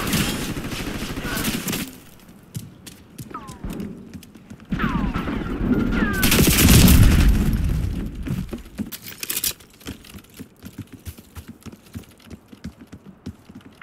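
Gunfire in the Call of Duty: Black Ops 6 multiplayer beta, with scattered sharp shots and bursts, loud at the start and again in the middle, mixed with game chatter and effects, then thinning into sparse clicks and pops.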